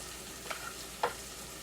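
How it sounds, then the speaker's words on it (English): Vegetables sweat in a pot on high heat, a faint, even sizzle with two soft scraping stirs, quiet and brief. "So yeah, we're letting those things sweat."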